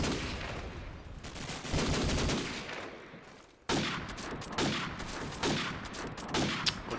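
Sustained gunfire from a competitive CS:GO-style match between national teams, with dense bursts of shots running throughout, loud and close, with no voices.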